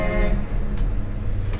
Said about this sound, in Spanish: Este claxon es de abajo, ¿eh?